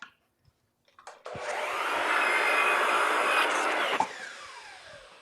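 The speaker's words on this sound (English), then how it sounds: "we're going to do a miter cut here" Power saw making a 45-degree miter cut in wood for a chameleon cage hood, a loud whining cut that rises after a few soft knocks, holds for several seconds, then winds down.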